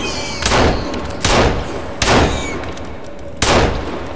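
Four loud gunshots ring out at uneven intervals in the survival game Sons of the Forest, each a sharp close crack followed by a short echoing tail, with no talking.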